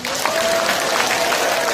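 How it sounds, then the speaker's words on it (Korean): An indoor audience at a Korean political campaign launch event claps in encouragement, a dense, steady burst of applause with a few faint voices underneath. "10분께 한번 격려의 박수를 한번 해주세요"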